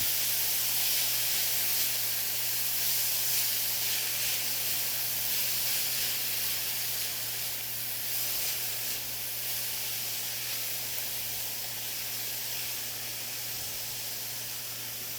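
Carrots, celery and onions sauté in a pan with a steady, even hiss and sizzle that holds for the whole stretch, close and unbroken, with a faint constant hum underneath.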